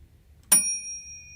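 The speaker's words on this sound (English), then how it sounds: "Yeah, bell works." A single small bell struck once to mark the end of a study session, giving a clear, bright ding that rings on with a long, slowly fading tone in a quiet room.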